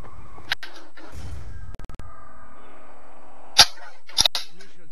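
Gunfire in an Xbox shooter video game: a few sharp, isolated shots scattered across an otherwise quiet stretch, one near the start and a tight cluster near the end.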